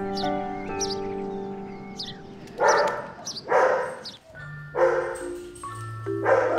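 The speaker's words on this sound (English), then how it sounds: "Among the canine commotion in reception," Several dogs bark in a busy veterinary reception, loud and close, in uneven bursts with yips and whines between, and no talk over them.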